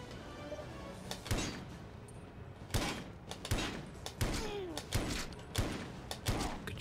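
Gunfire in the video game James Bond 007: Everything or Nothing, with a series of sharp, irregularly spaced shots and thuds over a low game background, some sounding near, others softer.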